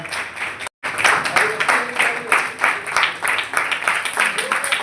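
A crowd at a green-energy seminar claps steadily and loudly throughout, with a brief cut near the start and voices murmuring under the clapping.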